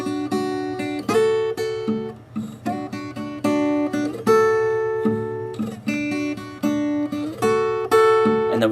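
Acoustic guitar playing in drop D tuning with a steady alternating thumb bass, plucked chords and slides ringing clearly in a close, even fingerstyle rhythm.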